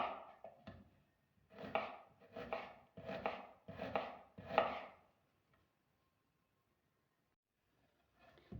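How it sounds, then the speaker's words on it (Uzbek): Onions being chopped with a knife while making Uzbek mastava soup: five quick bursts of close, rapid blade strikes on a board, then a long quiet pause before one more faint tap. "Shuni piyoz to'g'rashdan boshlaymiz."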